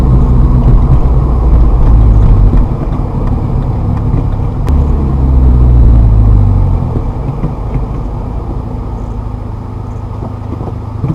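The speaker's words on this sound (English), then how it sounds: "Ease into the gas. Accelerate." A manual-transmission car accelerates in third gear, a loud close engine rumble that swells and holds for several seconds, then eases off into a steadier, quieter drone.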